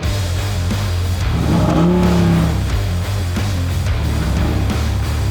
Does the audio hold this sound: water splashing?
no